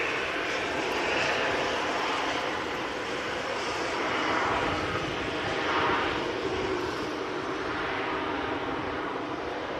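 Airliner engines at an airport, with an easyJet jet waiting for departure clearance, give off a loud continuous broadband roar and hiss that swells and eases slightly without pause.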